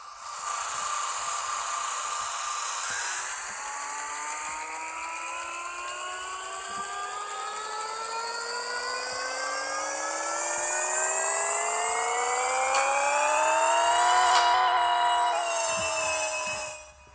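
A simulated Camaro tuned to roughly 1,500 horsepower in Pixel Car Racer runs on a dyno. Its loud, buzzy engine climbs steadily in pitch for more than ten seconds, peaks in a shrill rev, then cuts off sharply.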